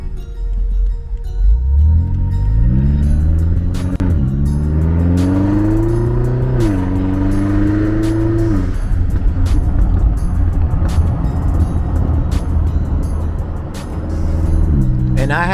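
A 750 hp BMW X6M with catless downpipes pulls away loudly, its engine revving up through a steep rising roar, then holding a harsh, close exhaust rumble that stays loud to the end.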